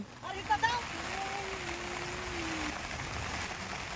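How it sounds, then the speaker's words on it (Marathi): Heavy rain hisses steadily beside the Bhima River, with a brief splashy sound near the start and a faint low hum running underneath. "पाऊस मरणाचा आला"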